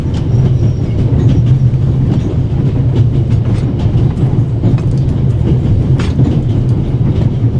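Train rolling along rails in the video game The Ravel, a steady loud rumble with faint clickety-clack of wheels running continuously throughout, no voices.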